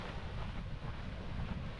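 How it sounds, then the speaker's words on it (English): Wind blowing on Barmston Beach in Yorkshire, a low rumbling buffet against the microphone, fairly faint and steady with slight gusting swells and no voices. "Oh, it is windy."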